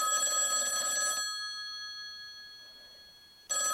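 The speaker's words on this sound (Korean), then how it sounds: "요즘 저런 전화벨 소리 들어보셨습니까?" An old-fashioned telephone bell rings on a theatre stage during a play: a loud metallic burst lasting about a second, a long ringing decay, then another burst starting. It is heard clearly on its own, with no talking.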